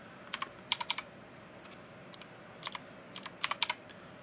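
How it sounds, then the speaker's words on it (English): Keys on a computer keyboard tapped in short clustered bursts while entering a code, crisp and close with quiet pauses between groups of strokes. "so I just type in the code."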